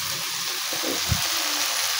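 Chopped potato and eggplant pieces frying in a pan give a continuous close sizzle, with a soft stirring thud midway.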